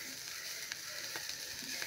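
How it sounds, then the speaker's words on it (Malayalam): Grated coconut and curry leaves fry in a pan for a muted, steady sizzle with faint crackles and scraping ticks, close by and without speech. "നമ്മൾ തേങ്ങ വറുത്തോണ്ടിരിക്കുമ്പോൾ അതിലേക്ക് കുറച്ച് കറിവേപ്പിലയും കൂടി ചേർത്തിട്ട് നന്നായിട്ടൊന്ന് ഇവിടെ ഒന്ന് വറുത്തെടുക്കണം"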